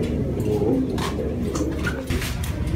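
Racing pigeons cooing inside a loft, a steady low murmur of many birds with scattered calls and rustling throughout, fairly close and continuous.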